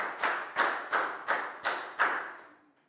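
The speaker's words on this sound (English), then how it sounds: "Big round of applause for Bangpon, please, guys" A primary school class claps for a classmate in six loud, evenly spaced bursts of rhythmic unison clapping, each sharp and close, with the last one fading out into quiet.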